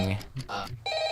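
A telephone rings in a video game, a bell-like electronic tone arriving after a couple of short spoken bits, then holding steady and fairly loud toward the end.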